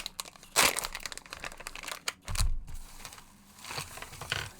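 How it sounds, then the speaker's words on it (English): A plastic sheet laid out to protect a desk crinkles and crackles as it is handled, with loud irregular rustling bursts and brief crunches up close. "just getting my little plastic sheet here to protect my desk"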